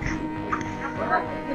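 Dogs at Swayambhunath temple in Nepal, brief yips and whimpering barks heard faintly under a person talking.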